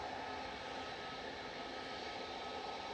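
Airliner arriving at Manchester Airport on a flight from Dusseldorf, a steady, continuous broadband jet engine roar held at an even loudness throughout, heard on its own without talk.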